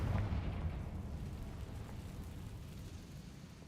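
A fiery spell blast in a Harry Potter video game, a deep rumbling explosion that starts loud and slowly fades into a low, rolling boom with no voices over it.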